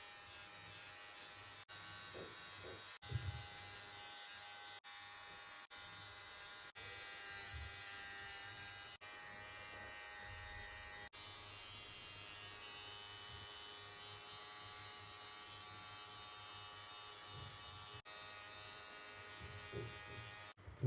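Electric toothbrush buzzing steadily and close for about twenty seconds, a continuous high whirring hum with brief low thumps as it moves around the teeth, no talking.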